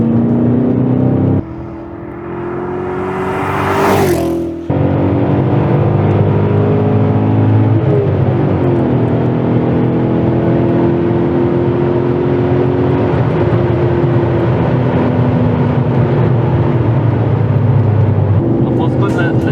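A 400 hp BMW M5 E39 V8 heard from inside the cabin, with a loud steady engine drone, a brief dip as the throttle lifts and the gear changes into second, then a sustained pull under occasional voices.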